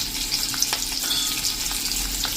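Ginger, curry leaves and asafoetida hit hot oil in a tempering for bottle gourd and gram flour muthiya, giving a loud, steady crackling sizzle with sharp pops throughout and no voices.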